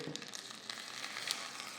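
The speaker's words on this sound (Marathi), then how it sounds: "यावर आता एक आपल्याला मस्त लसुणीची फोडणी घालायची आहे" Steady crackling sizzle of cumin and garlic frying in hot oil for a tempering, close and continuous, with brief sharper pops scattered throughout.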